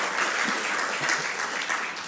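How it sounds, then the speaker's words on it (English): Audience at a fintech conference clapping for Ghana, a brief burst of steady, fairly loud applause from a seated crowd, with no voices over it. "Yes, clap for"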